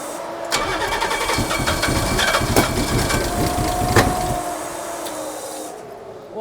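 A twin-turbo E85 race car engine, long unstarted, cranks repeatedly with a rapid, uneven chugging from the starter, struggling loudly without catching, then the cranking stops.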